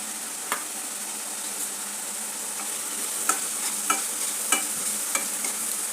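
Masala stir-fried in oil for a village chicken curry, a steady close sizzle broken by sharp spatula scrapes and clicks against the pan, with no talk.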